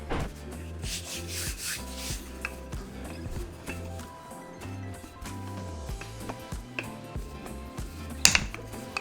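A rolling pin rubs and thumps over cinnamon roll dough shaped into a rectangle on a counter, a close, steady rhythmic rolling with soft knocks, over a quiet musical background.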